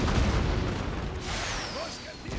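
Booming, rumbling rocket fire in a Napoleon: Total War battle, a dense continuous barrage of low blasts with a few whistling streaks overhead, loud and close.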